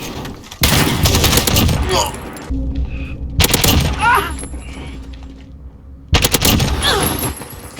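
An AK-47 fires in a video game in three loud, rapid automatic bursts separated by short pauses. The shots are sharp, punchy and close.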